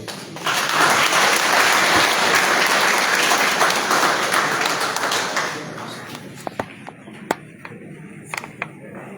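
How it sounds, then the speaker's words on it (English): Audience applause at the Liberia 2025 Investment Conference at the EJS Ministerial Complex, a loud, full burst of clapping that thins out after several seconds into scattered individual claps and taps. "let's give you a big hand clap."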